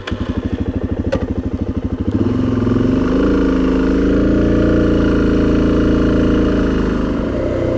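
A DRZ400 dual sport motorcycle on a trail chugs with a rapid pulsing idle, then the engine revs up into a sustained loud roar as it accelerates, close and unbroken by speech.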